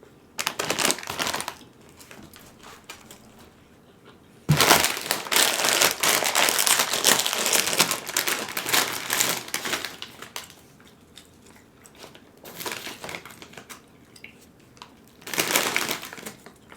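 Loud close crunching while biting into a Subway sandwich topped with Doritos, in several bursts separated by quieter chewing.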